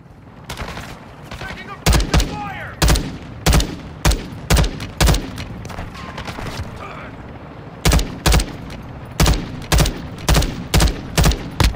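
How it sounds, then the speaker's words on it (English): Rapid bursts of gunfire echo through a video game, loud sharp volleys in quick clusters with pauses between them, while players talk over the shooting. "Bro, why are you shooting, bro?"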